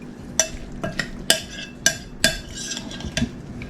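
A spoon stirs bruschetta mixture with seasoning in a bowl, giving five or six sharp, close clinks against the bowl at an uneven pace, with soft scraping in between and no talking.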